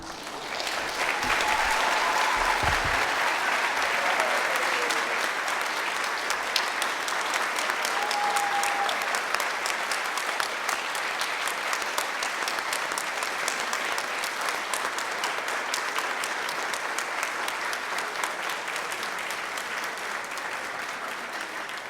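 Sustained audience applause at a Martin Luther King celebration, a steady dense wash of clapping from a large crowd lasting the whole stretch at even loudness, with no talk over it.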